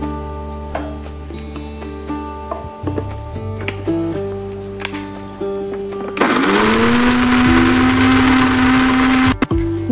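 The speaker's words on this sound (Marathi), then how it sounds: "मिक्सरमध्ये फिरवून झालेलं आहे आपलं वाटण" An electric mixer grinder pulses in short bursts, then runs in a sustained loud whine as it grinds a spice paste for a brinjal and potato curry, close and alone.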